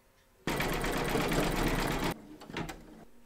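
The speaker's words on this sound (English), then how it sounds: "Load your thread colour for the decorative stitching along the seam here into your machine and then stitch round number seven" An embroidery machine stitches a decorative seam on a crazy patch quilt block in the hoop, a loud steady whirring run of about a second and a half that stops abruptly, followed by quieter clicks and handling sounds.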